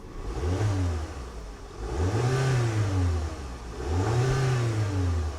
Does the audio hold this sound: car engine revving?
yes